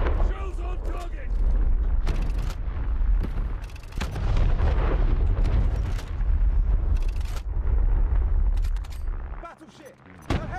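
Naval shells from a battleship engagement in the mobile combat game War Thunder Mobile exploding on target, a dense run of loud booms and rumbling blasts lasting throughout, with a brief lull near the end.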